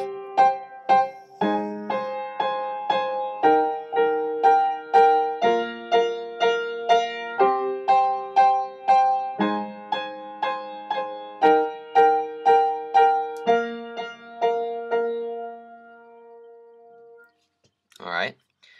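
Piano plays a simplified version of the intro to a song: clear, evenly pulsed chords and melody notes ring for about fifteen seconds, then fade, followed by a brief rustle.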